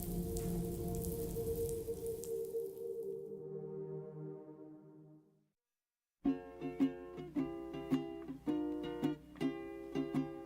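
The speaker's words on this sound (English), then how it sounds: "Those raindrops are falling on my head." Rain falls in the video game Death Stranding 2 as a steady hiss blended with soundtrack tones for about five seconds, then fades to a brief silence before plucked music takes over.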